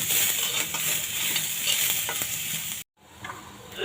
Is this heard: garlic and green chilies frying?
yes